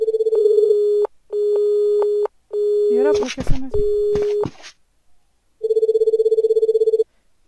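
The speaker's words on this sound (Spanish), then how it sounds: "Pinche teléfono." A telephone in a video game rings in long steady electronic tones with gaps, broken midway by a burst of other game noise; someone speaks Spanish over part of it.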